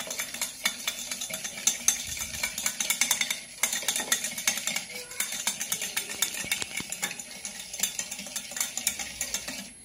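Cake batter beaten after powdered sugar goes in for a vanilla cake, a steady run of brisk scraping and tapping strokes against the bowl, close and fairly loud with no talking.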